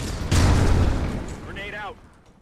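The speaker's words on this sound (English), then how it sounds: "Throwing frag." A frag grenade detonates in a competitive first-person shooter match, a loud sudden boom that decays over a second while a caster talks over it.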